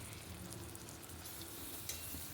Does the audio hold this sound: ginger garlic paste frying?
yes